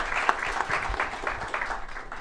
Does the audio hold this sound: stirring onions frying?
no